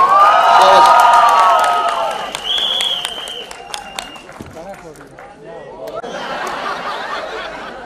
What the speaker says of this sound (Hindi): जब तक ये हटेगा और जब तक ट्रेलर शुरू होगा तब तक ताली बजाता रहो, सीटी बजाते रहे भाई।